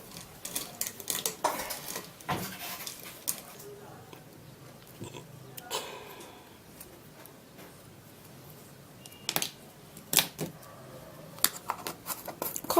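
A spoon stirs a vapor rub mixture in a small container, making soft scraping and light clinking strokes that pause in the middle and then come back as sharper taps.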